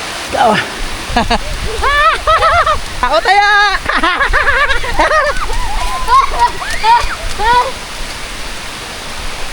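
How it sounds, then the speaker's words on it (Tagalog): Heavy rain pours down in a steady, loud hiss of splashing water, with excited children's voices shouting and calling to each other over the downpour. "Sobrang lakas ng ulan, grabe!"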